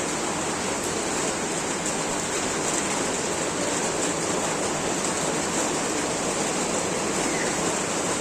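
Heavy rain pours on a rainy school day, a steady, dense hiss that stays even and unbroken throughout, with no voices.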